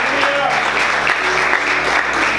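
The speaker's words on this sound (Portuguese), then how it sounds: "Aplauda Jesus com alegria" Steady, energetic clapping from a large church congregation continues without pause, with faint voices and a low tone mixed beneath.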